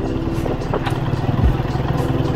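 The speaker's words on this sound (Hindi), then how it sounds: "बाइक में चला रहा हूँ, मैं अकेले जा रहा" Motorcycle riding through desert sand near a village, a close, loud engine drone with a pulsing throb and a brief rise in pitch, heard alone.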